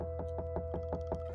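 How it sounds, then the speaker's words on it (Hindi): Repeated banging on the main door of a house in the middle of a forest, about seven evenly spaced thuds over a steady tonal hum, with no voices. "घर के मेन दरवाजे को भड़बड़ाने की आवाज़ गूंज रही थी।"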